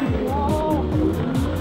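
A go-kart engine revs at the start of a race, its buzzing pitch rising and falling in quick repeated surges, close and fairly loud throughout.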